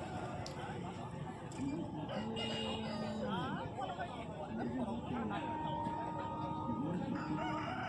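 Aseel roosters crow amid the bustle of a rural poultry market in West Bengal, with other fowl clucking and crowd chatter steadily underneath.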